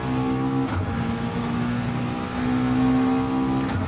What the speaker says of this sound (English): Early upshift to third